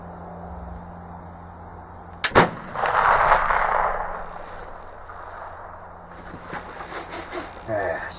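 A black powder rifle fires a single loud nearby shot outdoors, followed by a long whooshing, rumbling tail and faint background noise.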